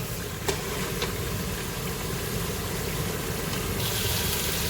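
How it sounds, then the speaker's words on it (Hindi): Chicken frying in masala in a pan, a steady, dense sizzle with faint hissing that continues evenly throughout, quiet and uninterrupted. "ये देखें ये चिकन की भुनाई हो रही है।"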